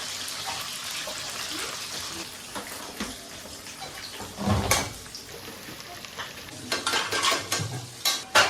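Onion frying in hot oil with garam masala at an outdoor picnic cooking pot, with sizzling and stirring scrapes that grow louder and more crackly toward the end.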